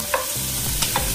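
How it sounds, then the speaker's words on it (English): Shrimp sauteing in a pan for a hot pot dish, a continuous close sizzle with a few sharp scraping stirs of the utensil, no voices. "First, we will saute the shrimp until it becomes, you know, orange or red."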